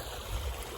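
Water flowing in a stream from nearby fields, a steady low rushing wash with faint broadband hiss, continuous and fairly close, no voices over it.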